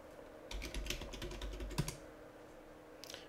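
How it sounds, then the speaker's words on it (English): Keys clatter on a computer keyboard as a username and password are typed into a Linux terminal, a quick burst of close taps lasting about a second and a half, then a short pause and a few final keystrokes. "So type in my user and password."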